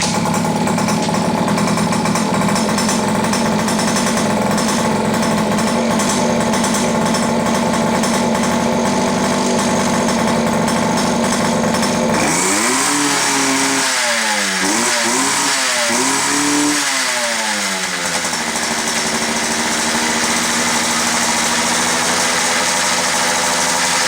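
A KTM SX50 dirt bike's small engine runs steadily and loudly after a stator and coil replacement, idling with a buzzing drone, then blipped through several rising and falling revs before settling back.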